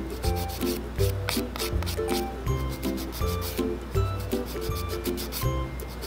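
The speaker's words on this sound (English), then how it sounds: "Alright, so I am done with filing" A nail file rasps back and forth over dip powder nails on short natural nails, producing steady, rhythmic scratchy strokes, close and fairly quiet, with no talking.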